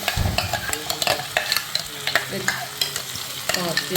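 Onions sauté in a pan while being stirred, a busy sizzle broken by repeated scraping strokes of a spoon against the pan at a quick, uneven rhythm.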